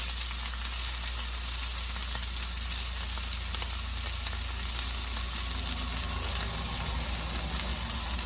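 Beef short rib pieces, local grass-fed and grain-finished, sizzle and fry steadily in a hot pan, a constant loud crackling hiss with no talk.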